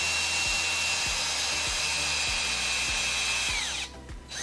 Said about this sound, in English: First of all, you're just gonna drill this into the corn.